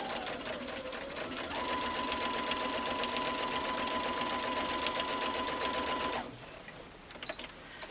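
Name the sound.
sewing machine quilting a mini quilt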